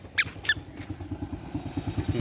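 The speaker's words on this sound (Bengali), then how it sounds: "যে মোটর সাইকেল আসতেছে মোটর সাইকেল আসলে রাস্তার কিনারে এভাবে দাঁড়াইতে হয়" A motorcycle approaches along a road with a low, pulsing engine putter building steadily, while two short high squeaks sound near the start.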